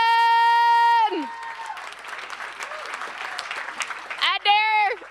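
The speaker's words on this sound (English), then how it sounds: "Give them a big round of applause" Applause and cheering from a crowd at startup pitch finals swell between bursts of loud electronic tones at the start and end.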